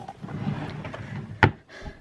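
A makeup drawer slides open or shut with a single short knock near the end, close by, over faint room noise.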